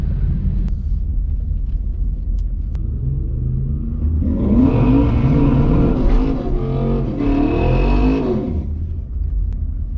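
Ford Mustang GT with the Coyote V8 launches at a drag strip: a steady idle rumble gives way to a loud, rising rev that holds for several seconds before easing back down. Nobody speaks.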